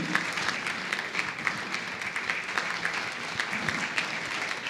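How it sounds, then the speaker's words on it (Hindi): Sustained audience applause fills a Hindi stage show honouring a guest with a bouquet, steady dense clapping throughout with no talking. "लोगों तालियां बजती रहनी चाहिए।"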